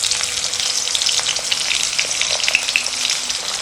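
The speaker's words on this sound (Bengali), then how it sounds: "এটাকে একটু লাল করে ভেজে নেব" Potatoes sizzle steadily in mustard oil in a pan, seasoned with turmeric and salt; a continuous close, fairly loud crackle with small pops runs throughout and nothing else is heard.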